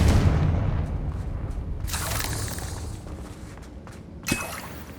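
Confringo fire spells blast in Hogwarts Legacy, a muffled boom fading off at the start and a sharper impact near the end, with scattered rumbling and debris between.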